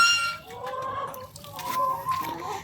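Chickens on a Namibian homestead cluck softly and repeatedly at close range, in short irregular bursts with no voices in between.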